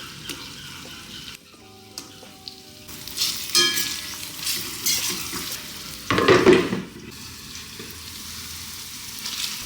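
Tomatoes, including canned tomatoes, sautéing with salt in a pan, a continuous gentle sizzle with stirring scrapes and a louder burst of frying partway through, close and without talk.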